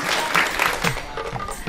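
A crowd applauds at a women's stage show in Kolhapur, many hands clapping in a busy, even patter that stays moderately loud before thinning slightly toward the close.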